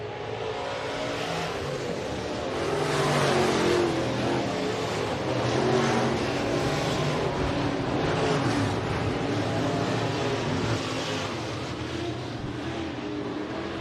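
Race cars roaring around the Rapid Speedway oval on a Friday night, a dense continuous engine drone with swelling passes as the pack sweeps through the turns, loud and steady throughout with no talk.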